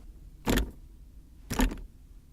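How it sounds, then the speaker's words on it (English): The gear lever of a 2015 Subaru WRX clunks into position twice, two short, firm knocks about a second apart in a quiet car interior. "The gear lever also makes a nice clunk sound whenever you move it into a new position."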